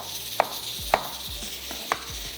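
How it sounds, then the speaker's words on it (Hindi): A knife slices through tomatoes on a board, three sharp distinct cuts spaced unevenly apart, close and clear over a faint low kitchen hum. "टमाटरों की भी स्लाइस कर लेते हैं।"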